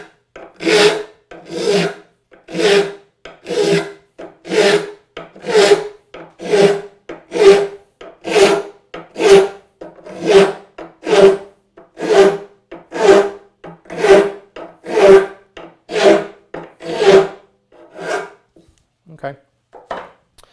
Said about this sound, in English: it is tiring to sharpen these blades because there's so many dang teeth